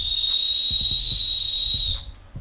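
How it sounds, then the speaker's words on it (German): A novelty whistle picked up at a music festival gives a loud, steady high-pitched tone for about two seconds before cutting off, with faint low thumps underneath. "Das ist eine Pfeife."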